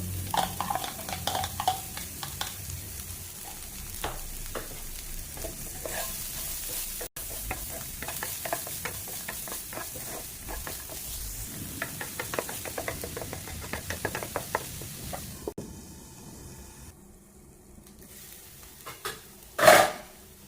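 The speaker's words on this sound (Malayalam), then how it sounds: "ഒരു സൈഡിൽ സവാളയും വെളുത്തുള്ളിയും ചോപ്പ് ചെയ്തത് ഇങ്ങനെ വേവിക്കാം" Chopped onion and garlic sizzle in oil in a pan while being stirred, a steady crackling fry broken by scraping and clinks of a utensil against the pan, ending in a louder clatter.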